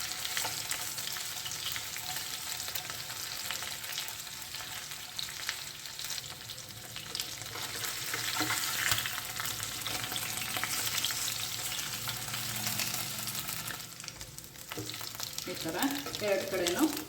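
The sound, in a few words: Goan chicken cafreal pieces frying and sizzling in a pan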